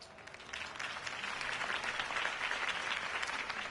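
A crowd in a Batman video game applauds steadily, a dense wash of clapping that holds at an even level throughout, with no voices standing out.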